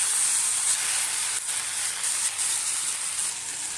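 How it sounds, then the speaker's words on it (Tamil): Tomato and vallarai greens sauté in a pan for a tamarind-touched chutney, giving a steady, even hiss and sizzle with faint clicks and no talking. "சேர்த்து எல்லாத்தையும் நல்லா வதக்கிக்கோங்க"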